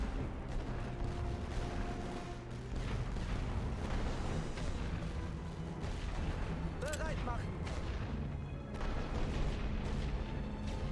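Enemy artillery rumbles and thuds through a World War I strategy game on the Western Front, a continuous heavy low barrage of booms with crackling fire on top, and a voice talks briefly over it.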